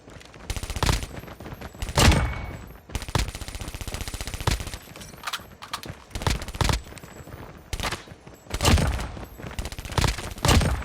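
Rapid bursts of hipfired automatic gunfire in the Call of Duty Mobile game, loud and close, coming in repeated short volleys separated by brief pauses.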